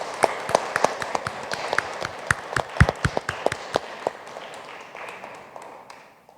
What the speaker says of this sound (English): Won't you join me in applauding our unsung heroes?